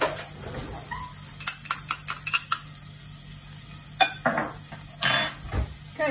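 Ginger and garlic hitting a very hot wok for Chinese chilli beef, with a soft sizzle under a string of sharp metallic clinks and scrapes from a utensil against the pan, close and fairly quiet.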